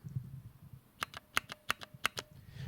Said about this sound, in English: you really hear the plastic hitting the plastic within the switch housing